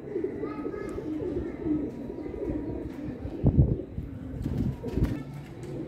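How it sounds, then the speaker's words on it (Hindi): Royal Teddy pigeons, a cock and a hen, coo in low, throaty rolls close by, with a few brief chirps, while someone talks intermittently over them. "ये कबूतरी है और ये कबूतर है।"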